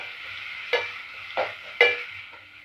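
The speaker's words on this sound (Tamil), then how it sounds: "இஞ்சி பூண்டு பேஸ்ட்டு நல்லா பச்சை வாடை போகிற வரைக்கும் வதக்கி விட்டுட்டே இருங்க" Ginger garlic paste sautés in a pan on a low flame under a soft sizzle, broken by three distinct scraping strokes of a spatula spaced about half a second apart, with no voices.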